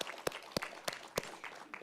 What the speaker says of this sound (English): So give our moderator and panelists a round of applause.